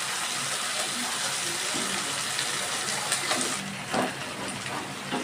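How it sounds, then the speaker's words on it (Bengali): Water poured from a tap into a pot of fish curry, a steady broadband gush running throughout at even loudness, with a couple of brief splashy bursts near the end. "এবার আমি দিয়ে দিচ্ছি জল।"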